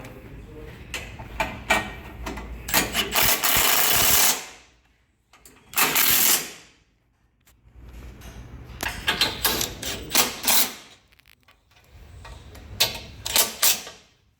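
Bolts being tightened while fitting a Rockarmor GT bull bar to a 300 Series Landcruiser, with loud bursts of rapid impact-wrench rattling separated by short pauses.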